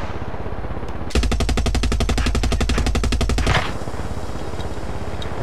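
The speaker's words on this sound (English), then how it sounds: "Make sure you're not underneath when I shoot it down." A long, loud burst of rapid automatic gunfire of evenly spaced shots lasting about two and a half seconds, with quieter background noise before and after.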